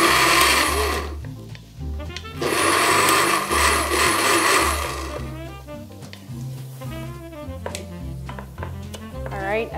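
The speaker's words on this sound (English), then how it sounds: "as chef gets our blender going there, you can see the pumpkin already" A blender whirs loudly as it purees tomato pumpkin bisque, with steady high motor noise that pulses and shifts in pitch as the load changes, while people talk faintly under it.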